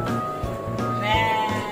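A baby goat at a farm animal area in Serdang, Malaysia bleats with a wavering, nasal cry near the end, over a steady background hum of other animals and low rumbling.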